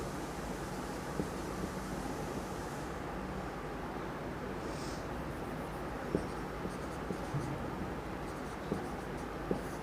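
Chalk or marker scratching across a board while a parabola formula is written, a steady faint scraping texture with small taps, under a noisy room background.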